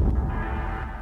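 A synth pad passed through the distortion stage of the Hybrid Head Crusher cinematic sound design plugin, a thick, gritty, sustained tone with heavy low end, loud and steady with no voices.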